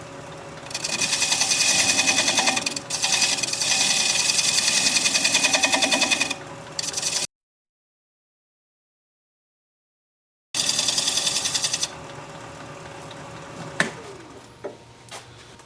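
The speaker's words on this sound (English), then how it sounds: "So I have to do a little bit of chisel work to smooth that out." A chisel rides against Japanese quilted maple spinning on a woodturning lathe, giving a steady, close, buzzing scrape for several seconds. The sound cuts out completely, then returns briefly and fades to a few scattered taps.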